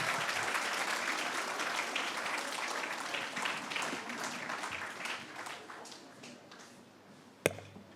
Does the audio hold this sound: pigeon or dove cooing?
no